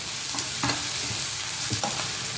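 Green chillies and chilli powder fry in a pan for carrot egg porutu, a steady sizzle broken by a few quick, close scrapes of a spatula stirring.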